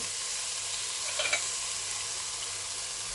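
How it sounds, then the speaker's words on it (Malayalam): Vegetables for fried rice sauté and sizzle in a hot pan with a steady, even hiss, broken near the middle by a couple of brief stirring clatters; no one speaks. "ഇതെല്ലാം നന്നായിട്ട് വാട്ടാം."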